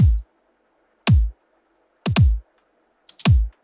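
A shortened kick drum sample used as a secondary pre-kick, with the low end filtered out, hits four times in a loose rhythm; each hit is punchy and close, with clean silence between.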